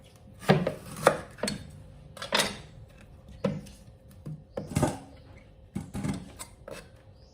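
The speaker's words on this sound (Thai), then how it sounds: "แล้วก็หั่นเป็นแผ่นบางๆค่ะ อย่างเงี้ยค่ะ" A knife cuts through firm bamboo shoot in a series of crisp, irregular chops against a board, slicing it thin, close up with no talking.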